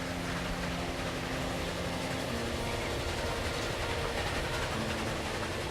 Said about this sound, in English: We're opening up with our train departing from Gulma.